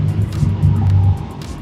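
A small engine revs high, roughly 7,000 RPM, with a loud steady drone that holds for about a second before easing off.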